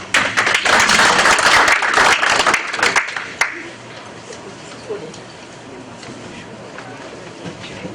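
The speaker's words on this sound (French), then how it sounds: "Voici pour vous, M. Belale, s'il vous plaît, sous votre ovation." Audience at a TV channel programme launch gives a loud, dense ovation of clapping that lasts about three seconds, then cuts off sharply and leaves a quiet room with faint murmurs.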